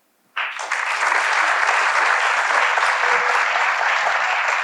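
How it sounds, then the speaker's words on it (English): After a brief silence, a panel-discussion audience bursts into full, steady applause that holds strong and dense for several seconds. "I'd like a big round of applause to bring up our panel"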